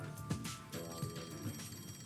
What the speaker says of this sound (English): Is that a phone? No. That's the direct line to the World Detective Organization.